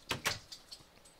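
A wooden door placed in the Minecraft video game gives two quick, sharp clunks close together, followed by a few fainter clicks as it settles.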